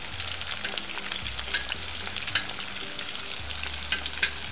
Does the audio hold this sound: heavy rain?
no